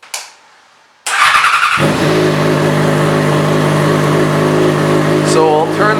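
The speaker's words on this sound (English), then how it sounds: "So we'll turn it on here, just so you won't be able to hear me because the bike is a little loud." A 2009 Yamaha FZ6R motorcycle engine fires up after a brief pause and settles into a loud, steady, close running drone with a faint voice partly masked underneath.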